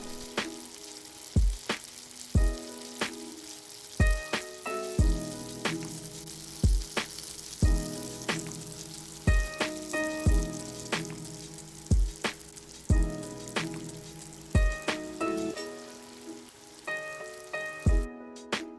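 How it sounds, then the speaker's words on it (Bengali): Boiled jackfruit pieces fry lightly in oil with a gentle sizzle under regular, evenly spaced knocks of a spatula against the pan, steady and close throughout. "তারপর আবার একই তেলে সেদ্ধ করা এঁচোড়ের টুকরোগুলিকেও দিয়ে হালকা ভেজে নেব।"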